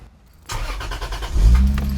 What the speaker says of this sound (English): Now we're gonna turn on our car.